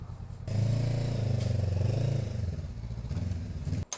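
An entry-level big bike motorcycle rumbles loudly up close while riding, a steady throaty engine drone that swells and then cuts off sharply near the end, with scraping and clatter.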